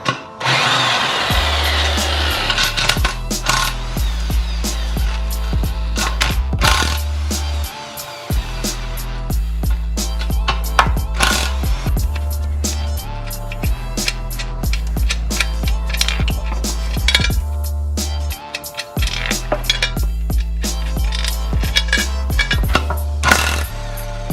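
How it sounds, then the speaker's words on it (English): A power tool with a 12mm socket zips nuts off the bolts of a split wheel so the barrels can come apart, with loud, close bursts of whirring and rattling broken by brief pauses. "So I'm just gonna take my 12mm, blast the nuts off the back side of the bolts"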